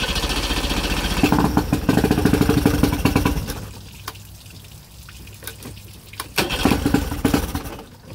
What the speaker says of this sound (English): we're going to just try choking it and starting it